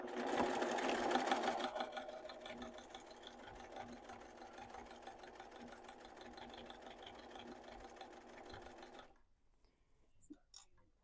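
A sewing machine stitches along the flat side of a curved pouch seam in one long, steady whirring run that stops near the end, followed by faint handling noise.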